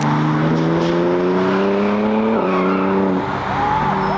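A BMW M3 Touring is driven hard on the Nürburgring, its engine holding a loud, steady high-revving tone that dips and climbs as it shifts, with tyres squealing through a corner.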